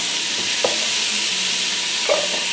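Sausage cooking in a pan for Italian potato soup, giving a steady close frying sizzle with two soft scrapes of a utensil against the pan, no voices.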